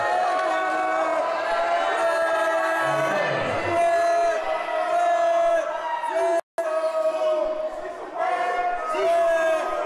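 A boxing crowd at a club fight event cheers loudly for the hometown favorite, sustained shouting and whooping voices with a voice over the noise.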